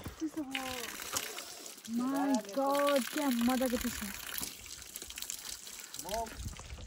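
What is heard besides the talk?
water being filled from a cold stream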